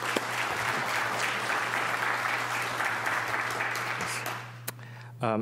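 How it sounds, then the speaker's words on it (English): A round of applause from an audience at a medical program on liver disease, dense steady clapping that continues for several seconds before tapering off. "Let's give her a round of applause"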